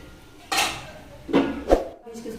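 A metal lid clanks onto a cooking pot of pointed gourd in a kitchen, giving a few short clinks and knocks over faint background, with a voice speaking quietly.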